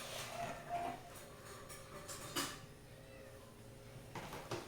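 A cat meows a few times amid a busy indoor room tone, with faint clatter and background noise throughout.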